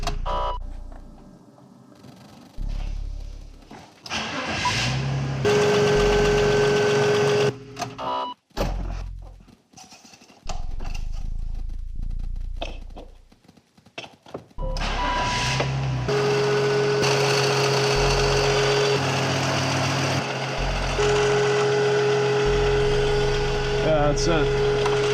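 BMW X5 diesel engine running with a faulty valve, a steady mechanical drone with a sustained whine that cuts in and out over about 25 seconds, with people talking at times.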